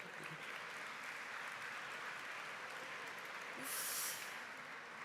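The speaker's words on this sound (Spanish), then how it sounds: "Aplaudir, aplaudir, venga, se lo merece." Faint applause from an audience at an academic talk on effective communication, a steady soft patter of clapping heard from a distance throughout.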